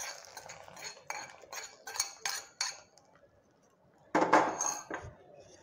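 A spoon stirs Kumbakonam-style kadappa curry in a metal pot, making a run of rhythmic clinking scrapes, then a short pause and a louder burst of strokes, close and clear.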